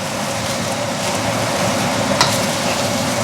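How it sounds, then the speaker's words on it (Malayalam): Choy sum fried rice is stirred and tossed in a hot pan, giving a steady close sizzle with light scraping and shuffling, and no voices. "എടുത്ത മൊത്തം റൈസ് ഇട്ട് ഇങ്ങനെ ഇളക്കി കൊടുത്തുകൊണ്ടിരിക്കുക"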